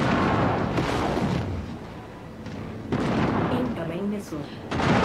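Heavy weapons fire pounds against a battle mech in MechWarrior 5 Mercenaries, a dense rumble of booming impacts and explosions in rolling waves, with a voice talking over the barrage.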